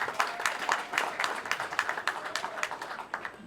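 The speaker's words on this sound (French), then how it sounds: "Veuillez applaudir." Audience applause at a rural women's day celebration on the Littoral, 2024, steady scattered clapping from a crowd filling the whole moment at moderate distance.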